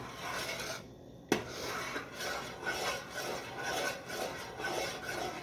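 Peanut butter fudge is stirred in a pan in a constant figure-eight motion, giving a steady close scraping and rasping that keeps going with a few uneven surges, after one sharp knock near the start.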